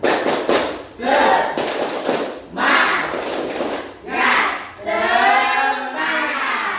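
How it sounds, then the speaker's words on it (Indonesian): A group of people stand and perform a rhythmic spirit clap in short, loud bursts of patterned clapping, separated by brief pauses, with voices chanting along between and during the claps. "1, 2, 3, tepuk semangat."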